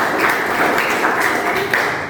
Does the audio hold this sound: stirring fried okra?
no